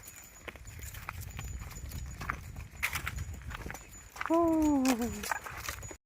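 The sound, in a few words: cows walking, hooves clopping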